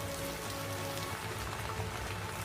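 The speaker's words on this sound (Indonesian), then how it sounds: "Hujan pun turun" Steady rain falls on a surface in a scene from Alice in Borderland episode 4, a dense, even patter of drops holding a constant level with no voices.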